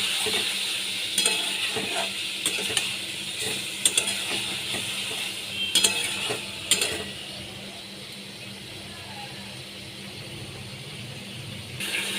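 Ground poppy seed paste stirred into ridge gourd and potatoes frying in a pan, a soft steady sizzle with scattered light scraping and clinks of the spoon against the pan.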